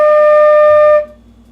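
A flute sustains a single clear, steady D for about a second, loud and close, then stops cleanly and leaves faint room noise.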